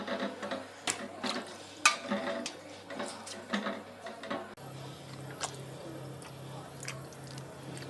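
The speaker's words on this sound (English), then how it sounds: "I'm going to mash the veg into this pan." Baked vegetables, soft after long roasting, are mashed in a pan with repeated squishing strokes and dull metal knocks, close and steady, with no one speaking.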